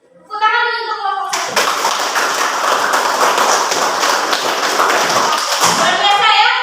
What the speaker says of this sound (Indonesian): Saya tepuk tangan dulu untuk kelompok